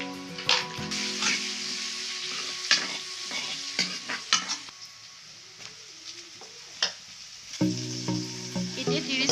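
Cabbage frying in oil with turmeric powder, a steady close sizzle broken by frequent scraping stirs of a spatula against the pan, with no talking.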